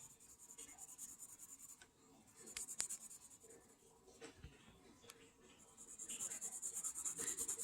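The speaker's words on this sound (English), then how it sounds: "It just gives your pencil more even coverage if you go over it an opposite way." A pencil shades a letter on paper with soft, steady scratching strokes that go back and forth close by and quiet, with a few brief taps and pauses between passes.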